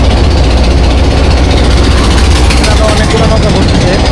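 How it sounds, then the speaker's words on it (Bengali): A boat motor runs loud and steady as the boat cruises under a bridge in the afternoon, a constant low rumble with rushing wash throughout and no pauses. "সামরিমাকে নিয়ে নৌকায় ঘুরতেছি"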